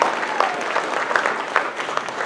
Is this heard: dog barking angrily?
no